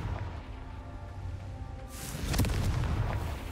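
A low ambient rumble gives way to a sudden booming fiery blast from the Confringo spell in Hogwarts Legacy, a loud burst followed by crackling debris that lingers to the end.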